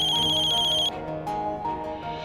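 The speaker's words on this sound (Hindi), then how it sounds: "आपका फोन बज रहा है।" A telephone ringtone trills loud and close with a high electronic tone, then cuts off, leaving lower tones and a soft background hum.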